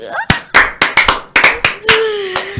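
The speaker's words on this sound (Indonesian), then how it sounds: "Tepuk tangan dulu dong" Several people clapping hands in a loose, uneven series of sharp claps, close and loud, with a voice speaking briefly at the start and end.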